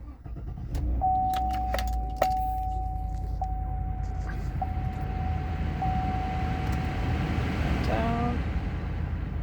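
A 2015 Chevy Silverado 1500 is started with the keys: jingling keys, a steady electronic chime tone while the ignition is on, then the engine turning over near the end, all heard close up from inside the cab.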